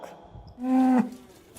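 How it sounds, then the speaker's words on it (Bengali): A single loud, drawn-out cow moo, close by, rising and holding for about half a second before tailing off against a quiet rural background. "কালি ধলি হাম্বা হাম্বা"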